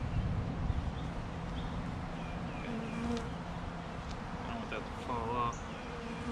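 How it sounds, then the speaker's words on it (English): Package honey bees hum steadily and close up as they are installed into a hive, a continuous insect drone with faint handling rustles and scattered sounds in the background. "Take these bees in."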